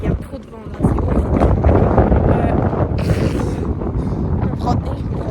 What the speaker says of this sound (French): il y a trop de vent là, c'est horrible.